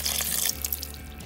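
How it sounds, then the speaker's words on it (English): Water gushes briefly from a can into a pot of goulash with tomatoes, a short close splashing pour. "So now I'm going to add in 2 cans of water."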